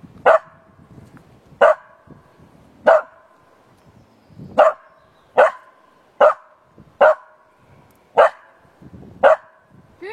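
A dog barking in single sharp barks about once a second or so, nine or ten in a steady rhythm, fairly close, with faint background noise between and no talk.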